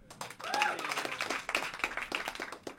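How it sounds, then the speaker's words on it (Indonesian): Applause from a comedy show audience, a dense patter of clapping hands with a few sharper claps standing out, steady and fairly close for a few seconds. "Boleh tepuk tangan teman-teman."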